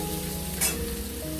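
Food frying in oil in a pan (karai), a steady close sizzle with a brief louder hiss burst midway, alone without talk.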